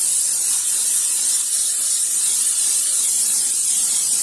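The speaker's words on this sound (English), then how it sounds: "You want to spray your pan." A continuous hissing spray from an aerosol can of cooking spray coating a loaf pan, steady and close, lasting several seconds without a break.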